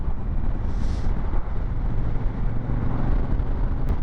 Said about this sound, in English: even though it's really, really, really windy